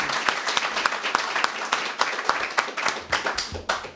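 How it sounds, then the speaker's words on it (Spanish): Audience applause greets a lecturer before a Spanish talk on José Antonio: dense, steady clapping from a sizeable crowd, close and loud, tapering slightly toward the end. "os pido un fuerte aplauso para él"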